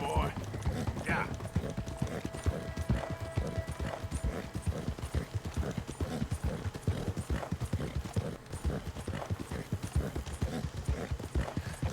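Horse hooves clip-clop in the Red Dead Redemption 2 video game, a fast, steady rhythmic patter of trotting hoofbeats that continues throughout with some voices mixed in.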